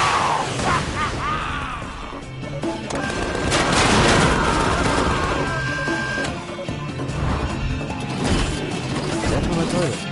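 Dense explosions, crashes and rapid gunfire fill the scene from the Tales from the Borderlands video game. A loud, chaotic mix runs continuously under overlapping shouted voices and music.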